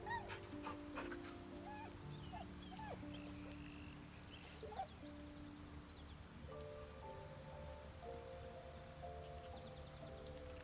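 A dog in Baldur's Gate 3 whimpers with high, wavering whines and gives a few yips and short barks over a soft rain-like background and game music tones.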